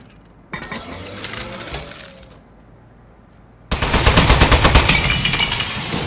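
Turret gunfire in the video game Portal: a burst of rattling shots cuts off to near silence, then a louder, rapid machine-gun stream erupts and continues to the end, close and harsh.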